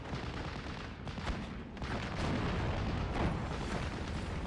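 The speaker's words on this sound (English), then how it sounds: "Martyr 2 will be hitting this Cromwell 2. One shot, one kill." A tank gun firing on a Cromwell tank in the Steel Division 44 war game: a sustained, loud roar of booming gunfire and explosion rumble, with sharper cracks near the middle and end.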